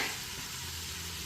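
Onions sizzling in a pan as the base for a homemade pumpkin soup, a steady, fairly loud broadband frying hiss throughout with no talk.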